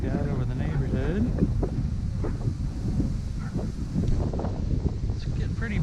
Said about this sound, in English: It's a pretty good breeze out here.